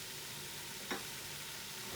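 Meat for bolognese browns in a pan, giving a faint, steady sizzle throughout with one brief scrape near the middle and no voices.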